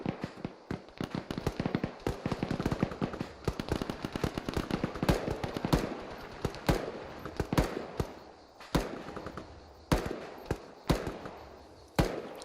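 Rifle fire crackles during infantry skills training in wooded terrain, starting as dense rapid bursts and then thinning to spaced single shots, loud and fairly close.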